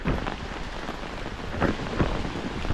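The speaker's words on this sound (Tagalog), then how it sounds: "Baha oh, umuulan." Heavy rain pours steadily in a dense hiss in San Fernando, Sorsogon, Philippines, with louder drops splattering nearby on a surface; no voices.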